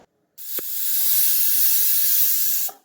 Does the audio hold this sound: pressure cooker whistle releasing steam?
yes